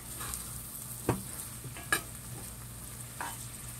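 Garlic cooks in a pot for jambalaya with a soft, steady sizzle. A few brief utensil knocks or stirs stand out against the low frying hiss, and no one speaks.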